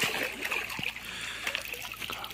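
A fish is released back into the water while fishing at a lake near Dvory nad Žitavou, with close splashing and trickling water and a few sharp splashes.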